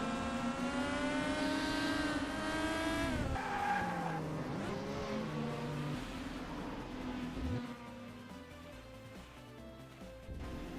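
IndyCar race cars in a racing video game at Road America lock their tires and slide into a turn, a loud sustained tire screech over high engine whine, with engines fading near the end.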